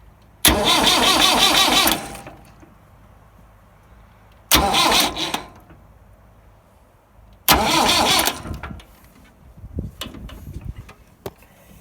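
A Massey Ferguson 175 tractor engine is cranked in three loud separate bursts of churning starter noise, each lasting one to two seconds, followed by faint sputters and clanks.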